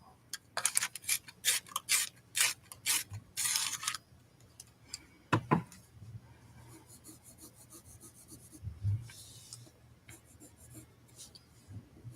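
Colored pencil being sharpened at a drawing desk, a run of close, rapid scraping grinds in short bursts, then quieter scattered rubbing and small ticks.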